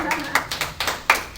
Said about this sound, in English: So I'll clap for you.